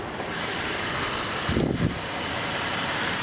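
A 2014 Chevy Impala police package sedan with a 3.6 liter engine and 109,000 miles idles steadily and quietly nearby, with a brief low rumble swelling in the middle of a smooth, even drone.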